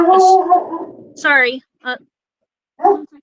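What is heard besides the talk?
dog barking in the room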